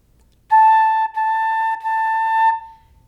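Flute tongued without aiming the airstream downward, giving an unclear, breathy tone: two seconds of notes broken into three tongued segments, loud and close, played alone.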